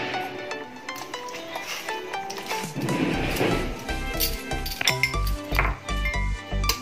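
Paneer pieces drop into a pan of hot salted water, with sharp metallic clinks of utensils against the pan followed by several dull, low knocks and thuds. The sounds are close and fairly loud, with no voices.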